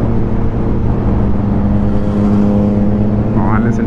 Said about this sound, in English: listen to that bike